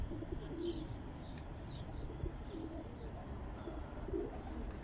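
Soft turtle dove coos repeat in the low range over steady outdoor ambience, with faint chirps of smaller birds higher up.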